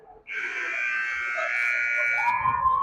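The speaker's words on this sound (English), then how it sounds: "we've got the buzzer" A loud, sustained electronic period-end buzzer at a hockey game blares for about two seconds, harsh and steady, with faint crowd noise as it ends.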